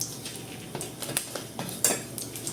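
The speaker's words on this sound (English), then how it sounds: "stir fry our carrots, okay?" Carrots stir-fried in a little oil for chow mein, heard mostly as a spatula clinking and scraping against the pan in quick irregular strokes, fairly quiet, with only a faint sizzle and no talk.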